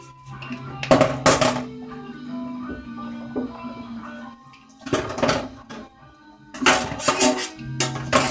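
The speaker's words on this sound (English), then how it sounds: "Doing the silverware very thoroughly this week." Silverware and dishes being washed by hand, heard as repeated bursts of clinking, clattering metal and crockery with quieter handling noises between them.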